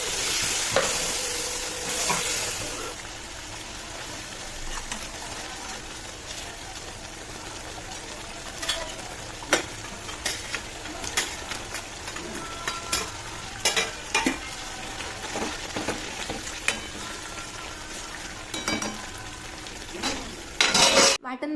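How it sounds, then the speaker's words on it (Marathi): Spice paste sautéing in oil in a pan, a continuous close sizzle and crackle broken by repeated scrapes and clinks of a spoon as it is stirred. "हे वाटण छान असं तेलात परतून घेतलं"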